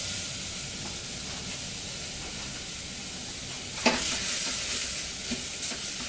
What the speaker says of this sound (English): I'm going to let the rice brown a little bit